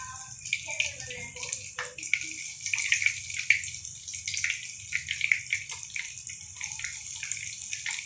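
Potato cheese lollipops frying in hot oil, a steady bright sizzle and bubbling that holds throughout with small crackling bursts, close and moderately loud with no talk.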